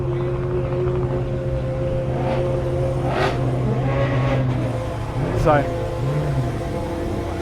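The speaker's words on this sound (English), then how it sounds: "that's one of the supercars leaving or coming back" Supercar in the supercar run at Goodwood Festival of Speed, engine droning steadily and passing by near the Lotus paddock, with crowd bustle and people talking over it throughout.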